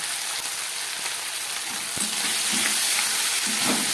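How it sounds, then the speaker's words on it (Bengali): Lentil dish with ginger paste, cumin and chili powder frying in a pan, a steady close sizzle with occasional stirring scrapes and bursts of crackle, no voices. "এবার এটাকে আরেকটু ভেজে নেব।"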